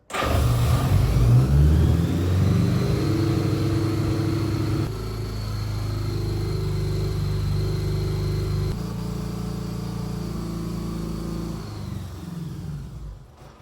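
A 1982 Honda Gold Wing motorcycle engine fires up and runs, a loud, steady mid-pitched hum that settles to a slightly lower idle over several seconds before cutting off, close and with no talking.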